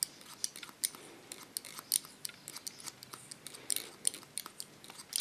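Scissors snip through hair in an ultra short summer haircut, with quick, close, crisp metallic clicks in an irregular rhythm and no talking.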